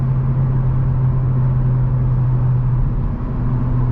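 2023 Hyundai Elantra with a 6-speed manual gearbox driving along, a loud steady engine drone and road rumble from inside the cabin, holding an even pitch without talking.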